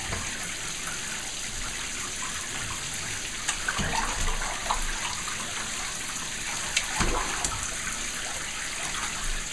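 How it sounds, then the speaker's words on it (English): Shower water runs steadily as a broad, constant hiss, with a few faint knocks and splashes from someone playing under the spray. "Where's that water coming from?"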